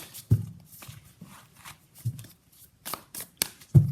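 Tarot cards being shuffled by hand, soft riffling and a few distinct slaps and taps of the deck, close and quiet with short gaps between bursts.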